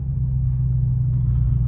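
A steady, deep 2020 Dodge Charger Scat Pack 392 V8 engine rumble idling close by, low and continuous with no change in pitch.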